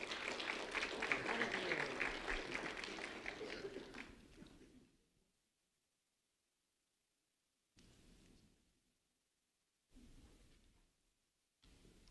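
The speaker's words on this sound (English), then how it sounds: "a round of applause for Christopher Sanchez" A burst of applause from an audience for fifth grader Christopher Sanchez, strong clapping that fades out after about five seconds, followed by near silence broken by short bursts of sound.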